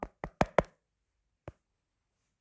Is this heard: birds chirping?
no